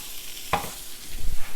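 Sausage frying in a pan gives a brief close crackle and hiss, with a sharp burst of sizzle followed by quieter spattering, all without any talk.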